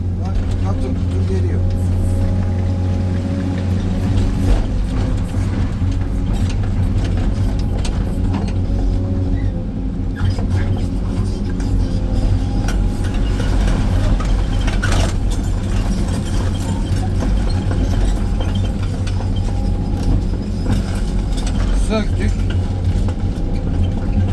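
A tracked excavator digging into stony material runs with a steady, loud engine drone and mechanical rumble throughout, with occasional clanks, and people talk over it.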